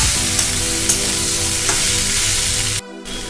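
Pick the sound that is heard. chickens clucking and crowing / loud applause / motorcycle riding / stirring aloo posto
stirring aloo posto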